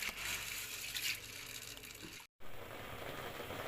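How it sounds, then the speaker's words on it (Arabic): Green beans rinsed under a running kitchen tap, a steady gushing stream of water with splashing, briefly cut off for a moment before flowing on. "انا نقيت الفاصوليا وبغسلها اهو"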